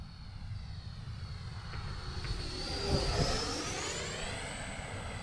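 A FlyFans K-8 Red Falcon RC model jet takes off from a bumpy runway without flaps, its ducted-fan whine rising steadily in pitch and swelling in loudness as it climbs away over steady low rumble.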